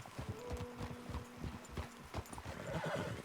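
A horse in the video game Red Dead Redemption 2 clip-clops with quick hoof steps and gives a short whinny and snorts, faint and close by.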